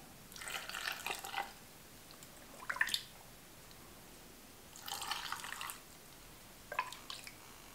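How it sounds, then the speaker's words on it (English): Water is poured into a glass jar of pickles already holding vinegar and brine, coming as four faint, brief splashy pours separated by quiet gaps. "And then fill it the rest of the way with the water."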